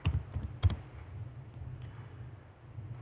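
Computer keyboard clacking as a comment is typed into C++ code, a quick cluster of close, distinct key taps at the start followed by faint scattered clicks over a low background hum.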